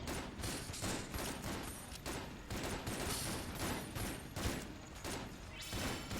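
Dense, continuous gunfire from the Enter the Gungeon video game, rapid overlapping shots and small blasts pouring out steadily for several seconds with no pauses, loud and busy throughout.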